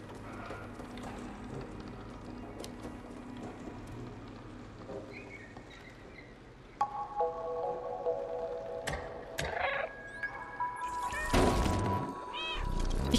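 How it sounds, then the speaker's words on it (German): Cat meows from a cutscene in the video game Stray, several short, fairly faint calls set against a soft patter of rain and game ambience, with a few brighter tonal chimes later on. "Ich kann miauen! In der Cutscene!"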